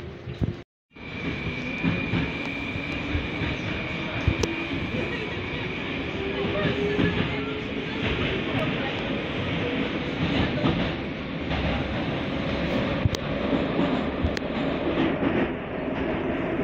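A Moscow Metro train on the Tagansko-Krasnopresnenskaya line rumbles along with a steady roar and rattling wheels, a faint whining tone riding above, after a short silent gap at the start.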